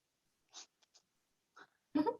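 A pen drawing calligraphy strokes on paper, a few short, quiet scratchy strokes separated by pauses, ending in a louder, fuller scrape, close and isolated in a silent room.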